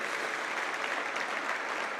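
A church congregation applauds during a sermon, a steady wash of many hands clapping at once, moderately loud and even throughout, with no other sounds standing out.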